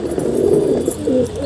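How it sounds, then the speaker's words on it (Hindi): Pigeons coo in a continuous low, throaty murmur lasting the whole moment, with a few swells in the calls and steady close presence. "जैसे ही कबूतर आती है तो वैसे इसको हम बंद कर देंगे"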